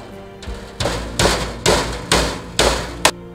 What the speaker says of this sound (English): maybe if I just like hammer it down